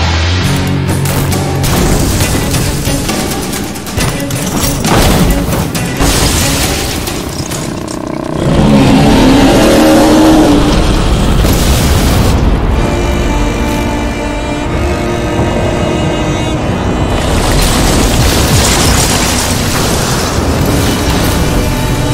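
Heavy ballistas fire in the dark stealth game Styx: Shards of Darkness, producing deep booming blasts and mechanical thuds layered over a dense, continuous game soundscape with music.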